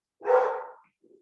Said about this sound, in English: Sorry about the dog fight.